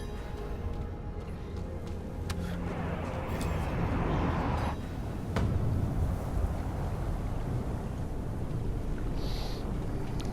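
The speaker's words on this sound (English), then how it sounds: "The wind is picking up." Steady wind rushing and buffeting in Diablo IV, a dense, continuous roar that swells slightly midway and carries on unbroken, close and fairly loud with no talk.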